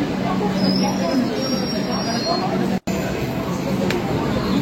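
Metro train on the Kolkata underground line to Dakshineswar pulling into an underground platform, a steady rumbling roar with a thin high squeal, close and loud, with people talking over it.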